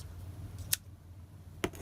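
Two crisp scissor snips trimming the loose scrap ends of a tied paper cluster for a journal embellishment, one near the start and one near the end, close and distinct over a quiet room hum.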